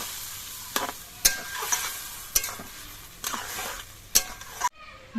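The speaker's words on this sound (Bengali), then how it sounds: "এবার চালটা দিয়ে আর মশলা দিয়ে আরও কিছুক্ষণ কষিয়ে নিতে হবে" Rice and spices are fried in a pan with steady sizzling, broken by several sharp scraping stirs spaced about a second apart, moderately close and with no talking.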